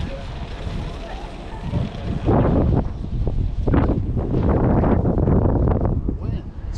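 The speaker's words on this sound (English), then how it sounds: "This wind is for real, huh?" Strong wind buffets the microphone outdoors at the Green Dragon market, loud roaring gusts swelling and rushing in waves, nearly continuous across the scene.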